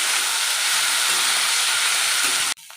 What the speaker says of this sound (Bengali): দিয়ে থোরটা দিয়েও হালকা করে ভাজবো